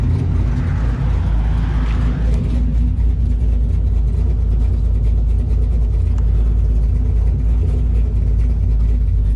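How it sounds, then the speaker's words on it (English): A 2000 Chevy Camaro with a GMMG exhaust idles and rumbles steadily up close, a deep continuous low-frequency drone with a slight rise in revs early on, loud and unbroken throughout. "Car sounds way better."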